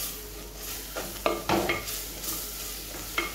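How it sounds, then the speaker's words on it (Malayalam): Cooked beef is tipped into a pan of frying capsicum and stirred for an iftar snack. Steady sizzling runs under several scraping stirs and light clinks of a spoon against the pan, with no talking. "ഇനി ഇതിന് ശേഷം നമുക്ക് വേവിച്ച് വെച്ച ബീഫ് ഇതിലേക്ക് ചേർക്കാം"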